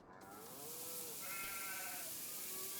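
Sheep bleating on a farm during shearing season, a few drawn-out wavering calls, fairly faint and distant over a steady background hiss, with no talking.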